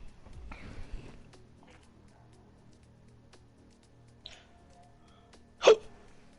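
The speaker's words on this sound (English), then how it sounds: "I just got the hiccups now." During a quiet moment in a commentated F1 2019 sim-racing broadcast, a person gives a single sharp hiccup near the end, set against faint low background noise and a few soft clicks.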